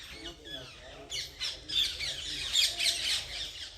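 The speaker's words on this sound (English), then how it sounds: "Listen to those parrots." Parrots squawking in trees at Bihar Kund in Braj, a series of harsh, fairly loud calls repeating over the second half, with faint outdoor ambience and some nearby voices.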